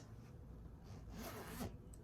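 A faint zipper rasp on a pillow cover, one short pull, with soft fabric rubbing around it; quiet and close, no talking.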